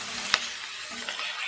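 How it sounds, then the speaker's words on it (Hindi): Onion and garlic frying on a slow flame in a pan ahead of chicken for macaroni: a soft, steady sizzle broken by a sharp clink or stir and a few small crackles, with no voices. "तो इसे मैं स्लो फ्लेम पे कुक कर लेती हूँ जब तक प्याज सॉफ्ट हो जाए और लहसुन की स्मेल चली जाए।"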